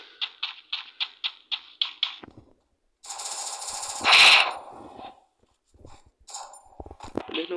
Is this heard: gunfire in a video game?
yes